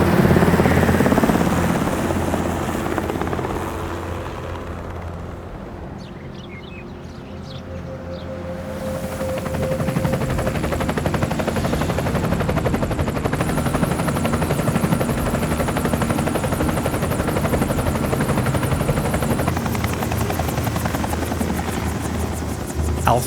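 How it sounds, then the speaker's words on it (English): A helicopter's rotor beats close and steady as it settles onto the rooftop of the Raccoon Police Department, the whirring thrum dipping briefly before swelling back to a loud, continuous drone with no voices heard. "Alpha Team's helicopter whirs to a gentle standstill on the roof of the Raccoon Police Department"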